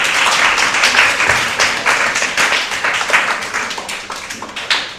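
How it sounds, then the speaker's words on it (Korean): A school audience at an international-class program information session claps for a senior student, a dense, steady patter of many hands filling the room for about five seconds, with individual claps standing out now and then. "선배님께 우리 박수 한번 보내줄까요?"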